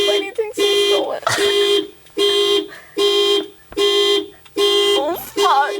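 A car alarm blares in a repeating on-off pattern, about six loud wailing bursts with short gaps, and a person talks and shouts over it.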